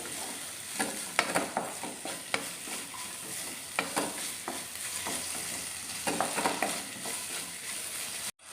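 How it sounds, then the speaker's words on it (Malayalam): Mushrooms for a spicy masala fry in oil with onion and coconut pieces, a continuous crackling sizzle broken by repeated sharp clacks of a spatula stirring, close and without talk, ending abruptly. "നമ്മുടെ ഈ എണ്ണയ്ക്കകത്ത് കിടന്ന് ഈ കൂണൊന്ന് ഫ്രൈ ആവുകയാണെങ്കിൽ നല്ല രുചിയാണ്"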